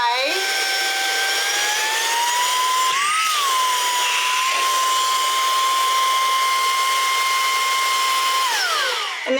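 At high speed, a Saker 3-in-1 cordless handheld vacuum cleaner gives a loud, close, high-pitched motor whine that holds steady after a brief pitch wobble, then winds down as it shuts off.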